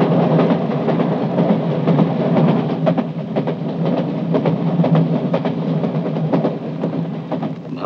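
A passenger train runs steadily with a continuous loud rumble and rhythmic clickety-clack of the wheels on the rails, heard from on board, with no talk.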